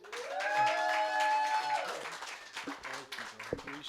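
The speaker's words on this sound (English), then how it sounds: "keep it going for Martin, everybody" Applause and cheering from a stand-up comedy club audience in Hollywood, a few seconds of mixed clapping and crowd noise, fairly faint, with a loud tonal sting riding over the start.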